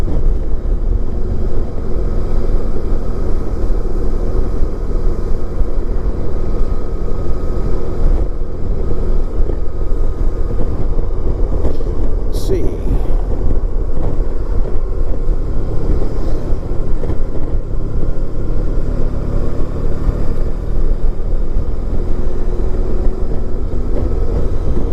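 A 1994 Honda ST1100 Pan European motorcycle engine accelerating: a loud, continuous low roar that stays dense and steady throughout, heavily mixed with rushing wind buffeting the microphone, with no voices.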